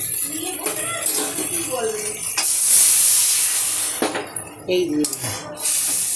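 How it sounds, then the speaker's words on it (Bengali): Fish fries in hot oil with cumin, green chili, ginger and mustard, a loud hissing sizzle that flares as pieces are added, mixed with utensil clatter while someone speaks briefly. "বাকি মাছগুলো দিয়ে দিলাম।"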